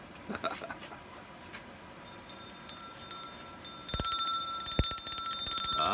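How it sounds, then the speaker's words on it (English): A small bell jingles in a few light, tinkling bursts, then rings faster and brighter in rapid, repeated shakes near the end. "It's a little teeny bell."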